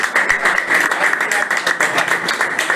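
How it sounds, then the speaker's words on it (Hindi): An audience at an Shri Parshuram Akhada felicitation ceremony claps together in a steady, dense patter of many hands, close and sustained, with a voice heard faintly beneath. "सभी लोग से भी एक साथ तालियों की गड़गड़ाहट के साथ"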